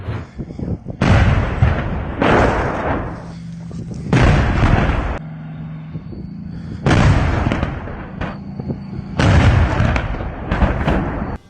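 A Russian tank fires into a Ukrainian residential area, setting off four loud, booming blasts, each followed by a rumbling roll lasting about a second, separated by short lulls.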